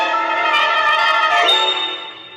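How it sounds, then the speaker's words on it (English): A small silver bell rung three times, a bright sustained metallic ring that starts full, then shifts and fades near the end, heard alone with no talk. "The mouse rang a small silver bell thrice."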